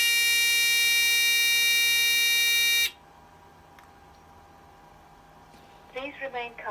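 A loud, steady electronic lift alarm buzzer from an Avire Memcom unit sounds for about three seconds, then stops, leaving quiet room noise before a voice begins speaking.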